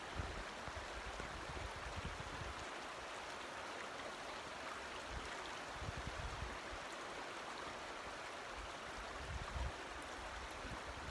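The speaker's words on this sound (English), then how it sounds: "there is downstream" A creek near Andrews Geyser outside Old Fort, North Carolina, flows steadily downstream past leaves and debris, giving a constant, broadband rushing and burbling wash that stays even and close throughout, with no voices.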